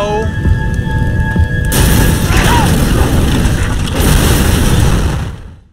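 A loud explosion from a crime drama scene erupts partway through, a sustained heavy boom with rumble and debris layered over tense dialogue and background score that continues until the sound cuts off.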